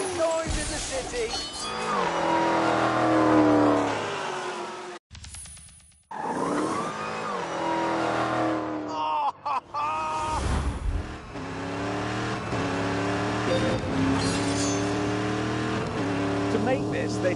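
A modified Dodge Hellcat's engine revs hard on a city street, loud and close, with rising and falling pitch through the gears, a brief cut, then more sustained roaring and tyre squeal, with a voice speaking over it.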